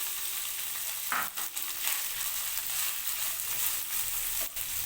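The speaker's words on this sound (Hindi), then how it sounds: "अब हम इसको करते हैं फ्राई, ताकि इसका कच्चापन सारा ख़त्म हो जाए" Boiled, shredded chicken fries in a pan with a steady close sizzle, broken by a few stirring scrapes and utensil knocks, with no voices.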